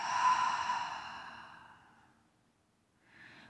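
A long, audible exhale during a yin yoga leg stretch, loud at first and trailing off into silence, then a softer breath begins near the end.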